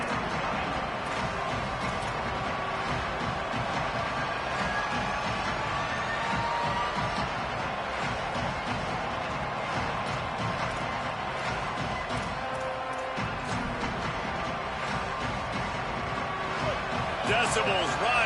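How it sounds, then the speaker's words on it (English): A football stadium crowd roaring behind the home defense on third down, a dense, sustained wall of cheering with scattered thumps and claps. "Decibels rising as the crowd gets behind this defense on 3rd down"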